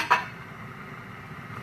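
A Rock Crock microwave cooker being pulled out in a kitchen, two sharp ceramic clinks at the start and end with a quiet pause between, close and fairly loud.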